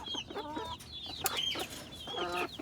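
Backyard hens and small chicks cluck and peep close by in short repeated bursts, with faint background noise and no talk.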